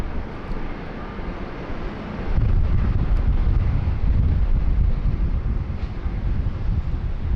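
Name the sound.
Thai Airways Boeing 777-300ER departing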